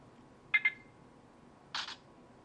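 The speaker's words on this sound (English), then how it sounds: "Now we've got the shutter sound on." Electronic shutter sound from a Casio EXILIM C721 camera on Verizon, two short bursts: a quick double click followed about a second later by a slightly longer synthetic snap, alone against a faint quiet background.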